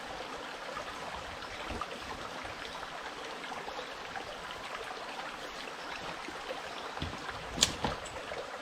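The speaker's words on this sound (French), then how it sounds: "donc je vais en puiser dans ce ruisseau" A small forest stream flows steadily nearby, a continuous gentle rushing and trickling with a brief splash or knock near the end, no voices.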